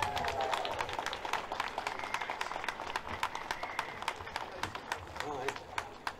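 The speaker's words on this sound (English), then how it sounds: "Please give a massive round of applause to Paul Burgess." Outdoor crowd at a 15-minute-city street protest in Oxford clapping for a speaker, a dense run of hand claps that rises and then tapers over several seconds, mixed with crowd noise and nearby voices.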